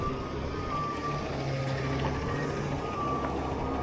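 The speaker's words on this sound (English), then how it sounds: "see if we can not get hit by a dumpster truck" A dumpster truck moves nearby with its reversing alarm beeping steadily in a regular rhythm over a constant engine rumble and outdoor wind noise, at moderate distance on a desert trail ride.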